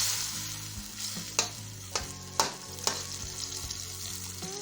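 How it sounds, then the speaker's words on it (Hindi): Tomatoes stir-fried in a karahi for bhuna: a soft continuous sizzle under a low hum, with four sharp spatula scrapes against the pan spaced about half a second apart, close and alone. "अच्छे तरीके से अब हम इसकी बुनाई कर लेंगे।"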